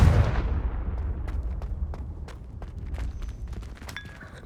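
A Confringo spell blast in Hogwarts Legacy: one loud, booming impact at the very start that rolls off into a long rumbling decay, with faint scattered debris and clatter afterward and no talking.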